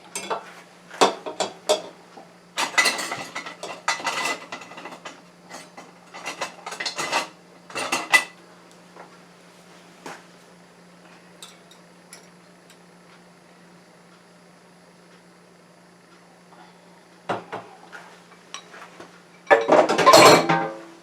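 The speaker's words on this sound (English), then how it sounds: "we'll just give it a little whisk first" Egg yolks with a pinch of salt whisked in a bowl, bursts of rapid metallic clinking and scraping separated by quiet pauses, then a final louder flurry.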